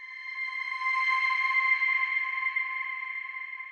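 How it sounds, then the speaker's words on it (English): A sustained, bright synth tone pitched up an octave, with heavy reverb and echo, held steadily and swelling slightly before fading, no voices. "it sounds a little bit like I've just pitched it up an octave, but I've added sort of extra effects"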